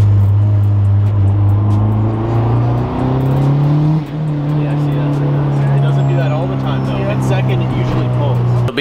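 Loud, close engine drone of a modified budget-build car driving on the street, recorded from inside the cabin, with steady low rumble and shifting pitch as it accelerates and changes gear, people talking over it.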